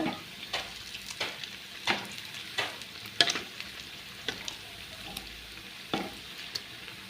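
Urad dal vadas frying in hot oil, a steady close sizzle with repeated sharp spikes as they are stirred and turned.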